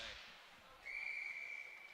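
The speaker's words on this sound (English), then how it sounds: "A whistle and a stoppage once again with 2:53 to go." A referee's whistle sounds at a college ice hockey game between Kent State and Rochester, a single sustained shrill blast rising after a moment of arena noise and lasting to the end.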